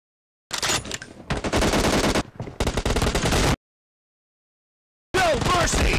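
Loud, rapid bursts of automatic gunfire in a PUBG team deathmatch fight. Two sustained volleys come close together, then a pause of silence, then another sharp burst.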